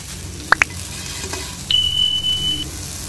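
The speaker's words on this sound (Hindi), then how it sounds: "इस तरीके से मिक्स करते हुए पकाएंगे।" Leftover rice stir-fried in a pan over a high flame gives a soft, steady sizzle, with two sharp utensil clinks early on and then a thin, sustained tone.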